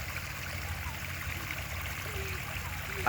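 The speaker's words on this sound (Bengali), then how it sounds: "আমার বাড়ির পাশে বৃষ্টির কারণে একটা প্রাকৃতিক ঝর্ণা তৈরি হয়েছে।" A small natural waterfall, formed by rain beside a house, makes a steady, even rush of falling and trickling water with no breaks.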